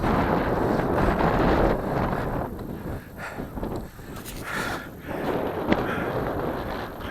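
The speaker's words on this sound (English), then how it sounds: "Wind again." Wind buffets the microphone during an outdoor run near water and fields, a loud rumbling gusty roar that swells and dips throughout with no speech.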